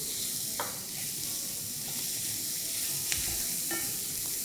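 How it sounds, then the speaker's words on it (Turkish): Steady sizzling of butter with onions and carrots sautéing in a pan, a continuous hiss with a few faint clinks of a utensil stirring. "Soğanı ve havuçlarımızı biraz kavurduktan sonra içerisine hemen tereyağımı ekliyorum"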